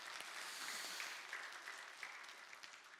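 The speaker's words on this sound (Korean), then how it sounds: "우리 하나님께 영광의 박수 드리겠습니다" A church congregation at a Friday evening worship service claps in praise, a broad, distant wash of applause that is fairly quiet and steady, then thins out toward the end.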